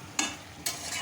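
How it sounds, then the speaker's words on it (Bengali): Sliced tomatoes frying in spice masala in a pan for tangra fish curry, with two brief scraping stirs over a soft continuous sizzle. "এবার আমি টমেটোগুলো দিয়ে দেবো, লম্বা লম্বা করে কেটে রেখেছি। দিয়ে ভালো করে এটাকে কষাবো"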